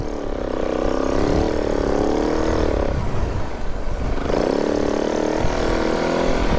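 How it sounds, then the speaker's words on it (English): A motorcycle engine lugs at low revs while warming up on a snowy trail, a steady loud drone that rises into two labored, wavering surges with a brief rougher dip between them. "Ooh, really letting it lug down. Trying to get this bike heated up."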